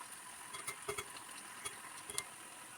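Thinly sliced onions fry in hot oil with a constant close hiss, while scattered clicks and taps from continuous stirring pop through the crackle.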